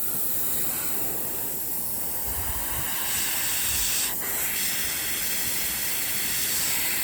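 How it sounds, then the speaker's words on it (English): An airbrush sprays paint in a steady, close hiss while shading a Storm Giant miniature from Nolzur's range, with a brief stronger burst partway through. "I keep having to kind of like test the airbrush."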